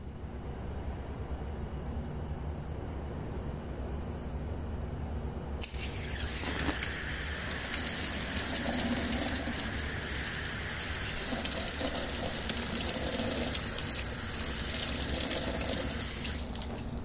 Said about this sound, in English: He hosed this damn thing down.